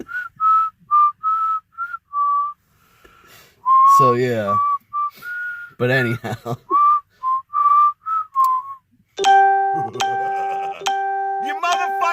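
A person whistles a short, eerie tune of separate high notes with brief pauses, mimicking a horror-film melody, then talks briefly before a phone's chiming ringtone cuts in loudly.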